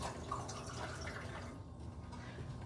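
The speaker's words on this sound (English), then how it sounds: "Fill my water some more." Water runs into a bottle, a faint continuous trickle of filling liquid at low level in a quiet room, with no talk.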